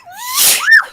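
A single loud, close sneeze, with a short rising breath leading into a sharp burst, heard alone.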